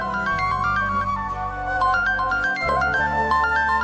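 A mobile phone ringtone rings out as a bright, repeating electronic melody of stepped tones, clear and continuous with no talking over it.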